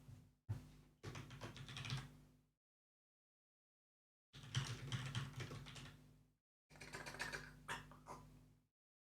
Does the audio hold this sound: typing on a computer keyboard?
yes